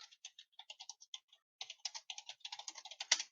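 Fingers typing on a computer keyboard, a quick irregular run of crisp clicky keystrokes heard up close, pausing briefly before a denser burst, with no talking.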